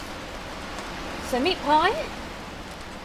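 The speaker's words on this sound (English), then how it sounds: "now it's really loud rain" Heavy rain falls in the video game Saelig, a steady, even wash of hiss running through the whole stretch while a voice speaks briefly over it.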